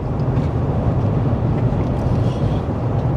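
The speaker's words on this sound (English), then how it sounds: "It's very windy." Strong coastal wind on the Eyre Peninsula, South Australia, with sea mist, buffets the microphone with a constant, dense low roar that barely varies in level.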